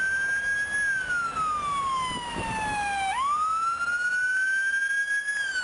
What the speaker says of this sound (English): they also save lives by emitting a strange noise called a siren